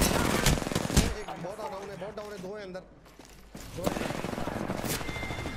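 Automatic gunfire from a squad in a battle royale video game, rapid bursts of shots near and loud, with players talking over the firing.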